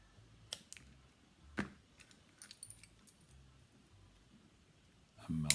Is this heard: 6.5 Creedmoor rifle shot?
no